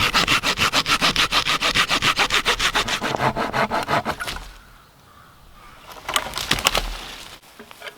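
Hand sawing through timber for a bushcraft shelter's log cabin wall: a fast, regular back-and-forth rasp of strokes, close and loud, then a pause and a few rougher final strokes.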